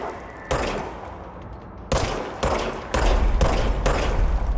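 Gunfire in the video game Control: loud bursts of rapid shots that start abruptly, pause, then return as repeated volleys, close and dominant with no talk.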